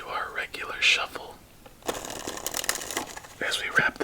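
Cards of an Off The Wall deck riffle and snap in quick bursts during solitaire, followed by a longer papery shuffle and another short riffle, heard up close.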